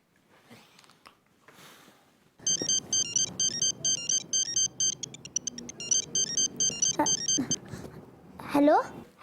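A phone ringtone repeats in a steady electronic patterned chime while an outgoing call connects, starting suddenly after some quiet talk and continuing under voices that speak over it until the end.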